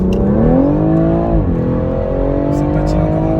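A BMW 140i xDrive with four-wheel drive accelerates hard with its tyres slipping slightly. The engine note climbs steadily, dips at a shift around the middle, then pulls again, loud and continuous from inside the car.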